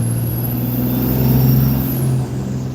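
Smoky truck with a 12-valve diesel engine idling and running, a loud steady low rumble with a rising engine note, then a drop near the end, close by and without speech.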